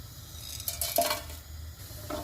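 Whole spices dropped into hot oil in a pan for cumin rice, giving a brief clatter and a soft sizzle at close range, with a faint hiss continuing afterward and no talking.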